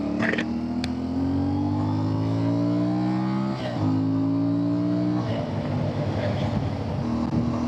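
A CFMoto 450MT motorcycle pulls away and accelerates, its engine note rising through the gears in steady climbing sweeps with brief dips at the gear changes, loud and close under constant wind rush.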